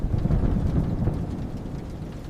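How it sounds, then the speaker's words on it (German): A thunderstorm with heavy rain and low rumbling thunder, a steady dense wash without a break. "Wann hört das Gewitter endlich auf?"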